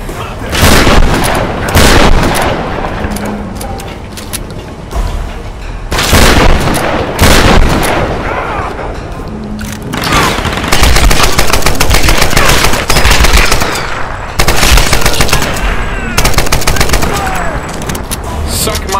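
Heavy gunfire and booming blasts from the video game Tomb Raider: Definitive Edition fill the scene with dense bursts of automatic fire and loud impacts, with voices heard intermittently over the constant, close, loud combat.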